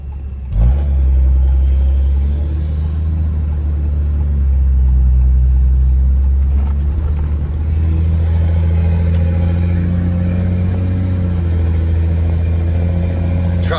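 A 4th gen Cummins diesel truck engine rumbles low and steady while driving, with gradual shifts in pitch as it accelerates and changes gears.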